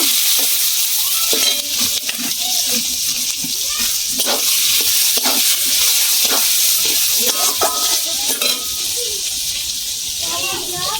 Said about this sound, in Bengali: এক চামচ হলুদ, আর একটু অল্প দেব। ভালো করে ভেজে নেব।